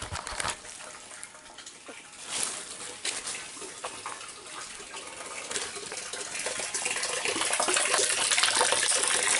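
Water runs steadily from a garden drip irrigation system in Jamaica, a continuous hissing gush that grows slightly louder toward the end, heard up close with no talking.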